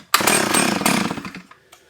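A 45-year-old Solo 660 AV chainsaw with a carburetor fuel problem, rescued from a tip, is started with the throttle partly open; the engine catches with a sudden loud, rough roar, holds about a second, then sputters and dies out.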